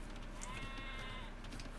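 A sheep in the video game Age of Empires 2 bleats once in a long, wavering cry, faint and set against a dense, noisy background with no talk over it.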